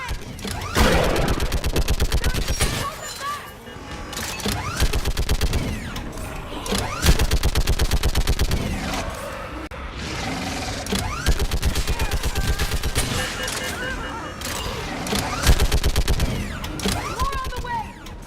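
Mounted gun in the Mass Effect 3 video game fires in sustained rapid bursts at enemies, loud and close, broken by brief pauses, with battle noise and shouted voices mixed in.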